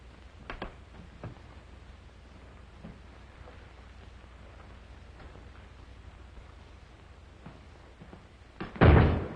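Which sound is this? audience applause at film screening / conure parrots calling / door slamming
door slamming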